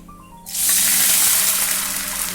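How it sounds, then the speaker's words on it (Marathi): Water pours into a pan of sizzling mustard-seed tempering, a sudden loud hiss and gush that stays strong and steady and then slowly eases. "मोहरी आपली छान तडतडली आहे आता पाणी घालू त्याच्यामध्ये"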